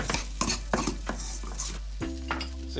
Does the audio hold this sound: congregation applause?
no